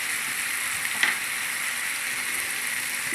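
Chicken sizzles and fries steadily in a pan with ginger garlic paste and ground cumin for Bengali kosha, with a brief stir or clink near the start.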